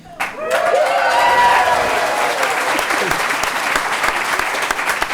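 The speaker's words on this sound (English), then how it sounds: "I think they're going to applaud every clause in the introduction." Crowd at a political leaders debate bursting into loud applause that swells quickly and holds steady, many hands clapping close together, with a voice speaking briefly at the start over the clapping.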